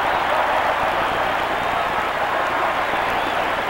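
A packed stadium crowd at a 1985 college football game between Florida State and Nebraska roars in a loud, sustained wash of cheering and applause with no break.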